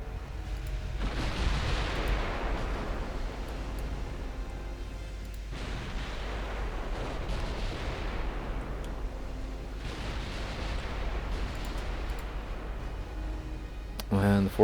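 Three heavy booming salvos from 14-inch naval guns in the naval strategy game Ultimate Admiral Dreadnoughts, USA 1943 campaign, NAR mod. Each roars out and rumbles down over several seconds at a steady spacing, with a low voice underneath.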